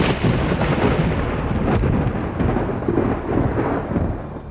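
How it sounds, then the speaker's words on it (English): A loud thunderstorm rumbles continuously, with deep rolling thunder and dense rain noise throughout and no speech. "Thunder rages outside,"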